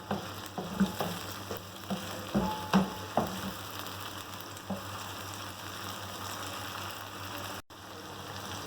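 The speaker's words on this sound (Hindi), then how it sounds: "साथ ही हम इसमें 2 टेबल स्पून अदरक लहसुन पेस्ट डाल देंगे। फ्राई करेंगे मीडियम फ्लेम पर।" Ginger garlic paste frying on medium flame for beef karahi, a steady close sizzle with soft stirring knocks and scrapes throughout.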